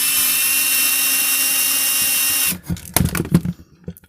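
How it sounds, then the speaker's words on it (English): An old cordless driver unscrewing screws from a cheap light fitting, a loud steady high whine for a couple of seconds that stops abruptly, followed by a few clattering handling knocks. "This is quite an old cordless driver."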